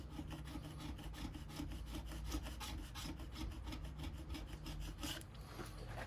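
Plastic scraper drawn across a waxed snowboard base, producing a rapid run of close, rhythmic rasping strokes that continue steadily for several seconds with no talking.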